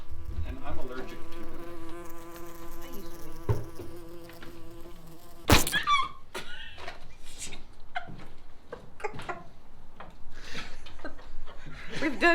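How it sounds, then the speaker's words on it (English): A wasp buzzes close by in the open air on a warm day, its drone rising and falling irregularly over several seconds, mixed with background noise and a short loud burst midway. "wasps are a problem here, and you can see we have a friend right here"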